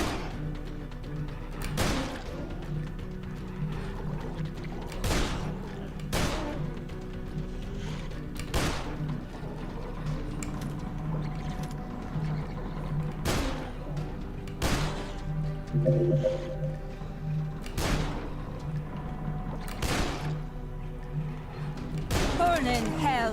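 Gunfire aimed at zombies in the game Dead Island: sharp single shots ring out every second or two across a steady bed of game ambience, loud and close, with a voice talking over parts of it.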